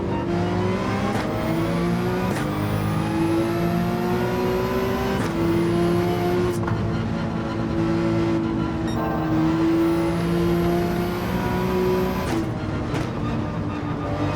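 A race car engine in Gran Turismo 7 pulls hard through the gears, its loud, steady tone climbing in pitch and then dropping back at each shift, several times in a row with no talk over it.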